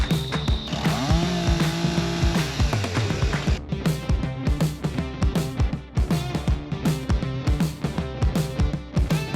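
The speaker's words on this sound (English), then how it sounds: "Dad's just going to get the chainsaw out" A chainsaw cuts through a fallen tree on rural property, its engine droning steadily and loud up close, then settling into a rhythmic pulsing as the chain bites through the wood.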